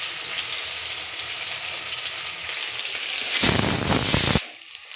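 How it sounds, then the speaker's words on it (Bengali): Tomato added to a pan of fried pointed gourd and potatoes: a steady hiss of hot oil, then a loud, roaring sizzle burst for about a second before the sound falls away to quiet. "এবার দেব টমেটো একটা,"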